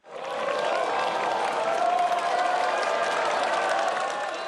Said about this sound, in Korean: 후배들은 응원의 함성과 박수로 선배들의 고득점을 기원했습니다.